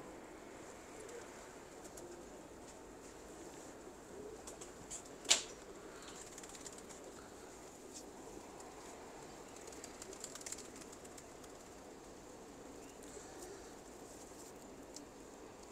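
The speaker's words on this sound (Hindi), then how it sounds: "इंतहा अच्छे कबूतर है।" Pigeons kept by a fancier coo faintly at a distance over a quiet, hissy background, with one brief burst of wing flapping partway through.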